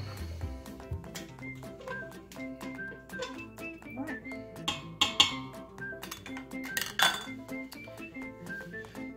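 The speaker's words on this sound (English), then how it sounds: "my version of stir to combine is stir until it doesn't sound gritty anymore" Sugar is stirred into rice pudding in an Instant Pot, a spoon clinking and scraping against the metal pot in irregular close taps and ringing chimes, with no talk.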